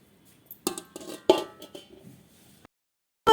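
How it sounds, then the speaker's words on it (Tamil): A lid goes onto a bowl of pearl millet dosa batter with a few light clinks and clatters of metal on metal, then a short silence and a final sharp clank. "நான் இதை வந்து அப்படியே மூடி வச்சிடுறேன்"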